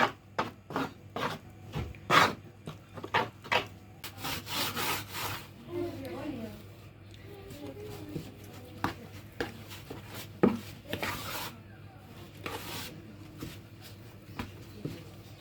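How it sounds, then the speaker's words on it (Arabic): Bread dough for matlouh being kneaded and slapped by hand, a run of sharp rhythmic beats and wet thuds, some quick and clustered, others spaced out, close and fairly loud with no talk. "هكا نقعد نخلط في العجين ديالي بهذا الشكل، نضربو بهذه الطريقه هاك هاك"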